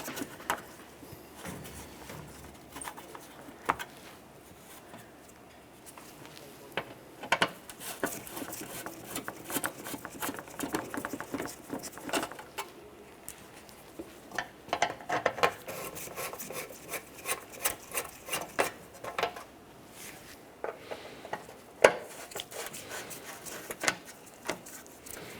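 Phillips screwdriver backing out skid plate screws under a 2012-2015 Honda Civic 1.8L, faint scraping and scratchy rubbing with scattered small clicks and taps, quiet and close, no talking.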